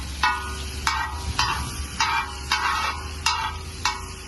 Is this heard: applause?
no